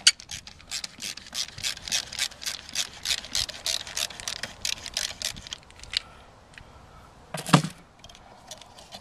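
A screw on the fuel filter clamp of a Volkswagen TDI is undone by hand, giving a long run of quick close ratcheting clicks followed by a single sharper metallic clack.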